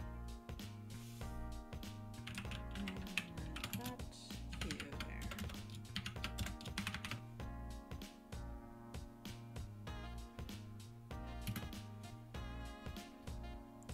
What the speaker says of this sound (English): Oh no, I'm typing.